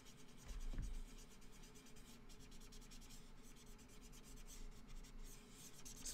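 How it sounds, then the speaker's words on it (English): Faint, soft scratchy strokes of colored pencils blending on paper, repeated in a quiet steady rhythm with a light bump near the start. "So just blending my pencils."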